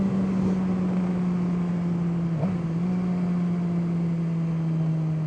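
A motorcycle on its first ride of spring hums steadily at cruising speed, with one brief dip in pitch, and no one speaks.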